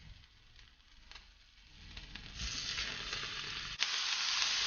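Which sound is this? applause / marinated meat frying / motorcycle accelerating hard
marinated meat frying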